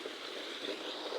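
Strong flowing water at a construction site in Sorsogon City makes a brief, steady rushing wash, close and even, with no voices.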